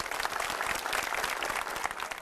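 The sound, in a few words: audience applause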